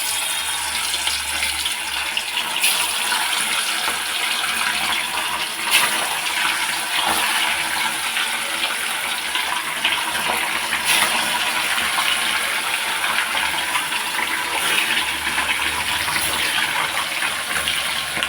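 Fish batter fries in hot oil for a Bhimavaram-style fish dish. A loud, steady, close sizzle and hiss runs unbroken throughout.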